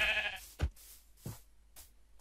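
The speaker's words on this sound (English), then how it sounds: "Guys, we found a sheep" Sheep in the Minecraft video game bleat in a few short, fairly quiet calls spaced apart, with a brief electronic tone at the start and no talk over them.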